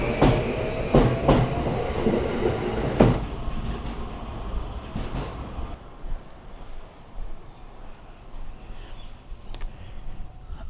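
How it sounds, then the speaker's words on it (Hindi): A local train in rural Japan, two cars coupled together, rumbles past nearby with broadband rail noise and a few sharp wheel clacks early on, then settles into a steadier, quieter rolling sound. "इस टाइप की लोकल ट्रेन हैं।"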